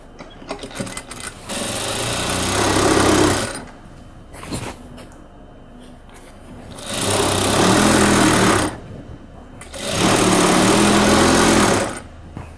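A sewing machine stitches a closed seam along a dress hem in three loud, steady bursts of rapid whirring, separated by brief pauses with faint handling sounds.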